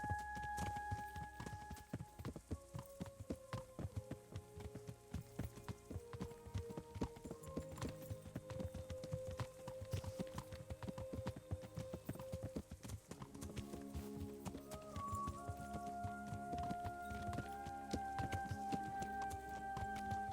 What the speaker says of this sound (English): Riding a horse seems super annoying